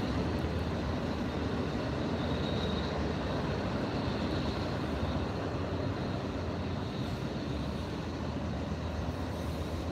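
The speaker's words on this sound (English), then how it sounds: "Probably a freight train." A freight train passes nearby as a steady, dense rumble and roar that stays loud and constant throughout, with no voices.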